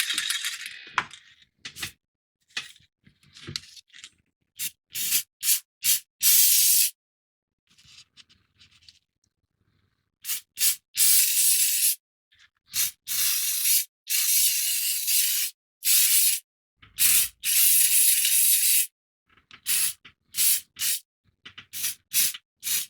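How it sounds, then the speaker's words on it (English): Krylon paint and primer spray can hissing in short and longer bursts, some sputtering as if nearly empty, with faint rattles and clicks between sprays, close and fairly loud, no talking. "The paint and primer from the Krylon sounds pretty empty."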